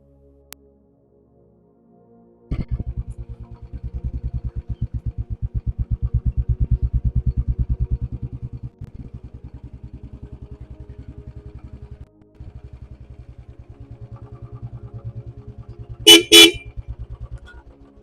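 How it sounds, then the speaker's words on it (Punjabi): A Bullet motorcycle's engine thumps in a fast, steady close beat as it arrives, pausing briefly, then a loud double honk of its horn near the end. "ਜੋਬਨ ਮੈਨੂੰ ਲੱਗਦਾ ਉਹ ਹੀ ਆ ਗਿਆ ਈ ਉਹ ਲੱਗਦਾ ਬੁਲਟ ਉਹਦਾ ਹੀ ਆ"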